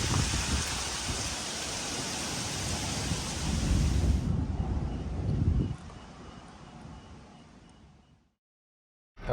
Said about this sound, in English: Got a bit of a storm blowing in, some high winds, lightning, thunder